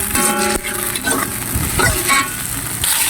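Chili sizzles and crackles in hot oil in a frying pan while being stirred, with scraping strokes and a steady bright frying hiss throughout.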